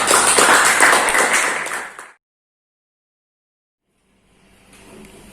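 Schoolchildren in a classroom clapping for a group of classmates: a dense burst of close applause for about two seconds that stops abruptly, then silence, then faint room noise returns.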